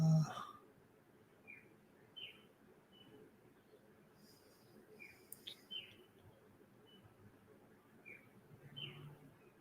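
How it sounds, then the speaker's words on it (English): Small birds tweeting in short, faint, scattered chirps over a quiet low background hum, with a brief thump at the start. "I heard the bird tweeting"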